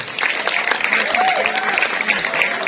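A crowd at a Calonarang performance in Tegalalang village, Bali, applauds the village performers with sustained, fairly loud clapping while voices rise over it.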